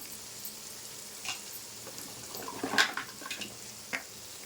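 Masala spices such as coriander powder and garam masala fry in a pan for egg pulao, a faint soft sizzle with a few light stirring scrapes and clinks, no voices.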